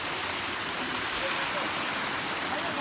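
The swollen Dhuwan Khola mountain stream in Nepal rushes along as a constant, full-bodied roar of water, close and unbroken.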